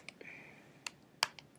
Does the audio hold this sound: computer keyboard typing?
yes